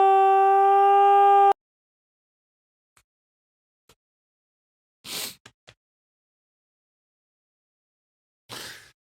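A stretched vocal processed with Voltage Modular effects into a steady, buzzy, siren-like tone that cuts off abruptly, followed by near silence with scattered clicks and short hissing bursts.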